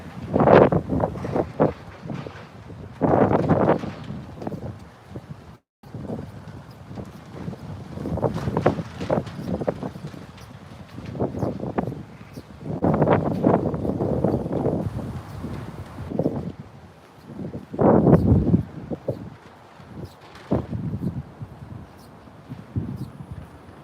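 Strong wind gusts buffet the microphone on a street in Flushing, Queens, New York City, in rough, rumbling bursts that rise and fall throughout, with no voices.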